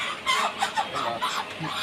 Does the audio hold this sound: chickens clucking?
yes